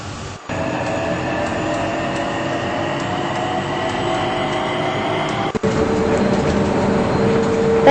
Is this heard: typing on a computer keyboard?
no